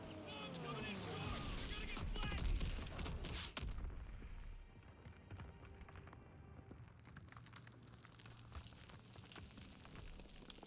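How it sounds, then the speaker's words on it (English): Bombs from a P-47 air strike burst in a Call of Duty WWII battle, a loud rumbling barrage with crackling debris that fades into a quieter, drawn-out decay, with a shouted voice mixed in early. "Bombs coming in short."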